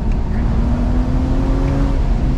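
A BMW 335i with the N54 engine pulling in first gear, a loud, close, steady low engine drone with a rising tone as it accelerates, no talk over it.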